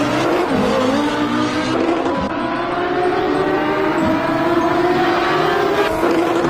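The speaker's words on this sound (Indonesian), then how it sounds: "Wow, ini mobil balap." Toy race car sounds, a loud continuous engine whine with a rising siren-like tone and squealing tires, held throughout with no talk.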